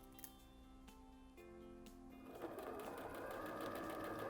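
Sewing machine stitching a fabric face mask around its top edge, a steady whirring run that grows louder and denser partway through, heard alone without talk.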